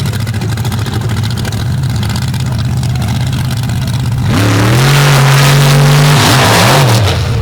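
Heavy racing truck engines roar steadily on the starting line, then surge louder as the motors rev and climb in pitch at the start, close and loud with no voices.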